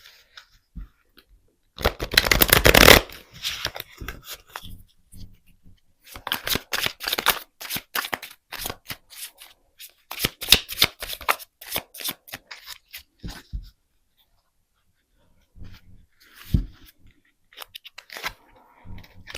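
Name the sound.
handling and shuffling tarot cards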